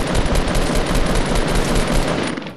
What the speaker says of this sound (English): Oh, people shooting over there?